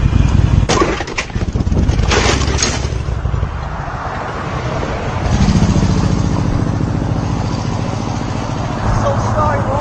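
A motorcycle riding on a road gives a steady engine drone with some louder revving and rushing passages, close and fairly loud, with brief clatter early on and no clear speech.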